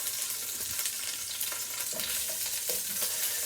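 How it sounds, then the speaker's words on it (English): Oil sizzling and popping steadily as chopped onions, celery, carrots and parsley fry in a tall pot, a continuous hiss with small crackles throughout. "You hear the oil jumping around a little bit."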